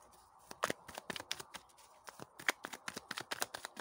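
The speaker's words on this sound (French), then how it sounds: "Je vais tirer 3 cartes" Tarot cards are shuffled close by in quick, crisp bursts of riffling and flicking, an irregular run of papery snaps with quiet gaps between them.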